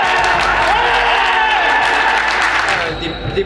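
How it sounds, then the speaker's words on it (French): Film extras in a crowd scene keep up a loud, dense hubbub of overlapping voices, shouts and some clapping, tapering slightly toward the end. "Des bruits de brouhaha, vous parlez entre vous, vous discutez"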